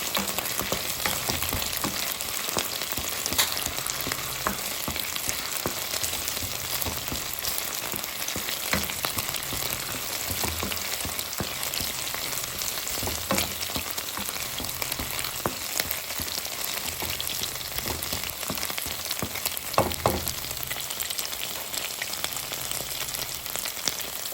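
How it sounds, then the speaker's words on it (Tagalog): Garlic fries in a pan with a continuous close crackling sizzle, dense and even throughout, with occasional sharper pops and light clinks of a utensil. "Ilagay na natin yung ating bawang."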